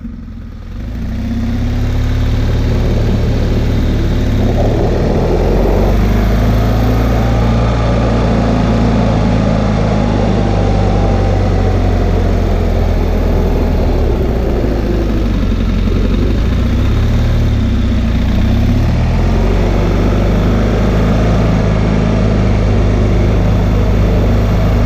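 Motorcycle engine running steadily as the bike builds up to about 20 mph for a braking test, a loud continuous drone with slight shifts in pitch and no talking.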